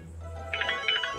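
A phone ringtone starting after a low hum, bright electronic melodic tones rising out of a quiet room in two short bursts, fairly close and alone.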